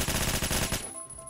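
A short burst of rapid automatic gunfire in the Roblox shooter Phantom Forces rattles for under a second and then cuts off into a faint fading tail.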